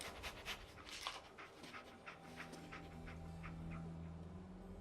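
A dog pants in Fallout 4, quick rhythmic breaths repeating for several seconds over a low game ambience, faint and steady with no talk.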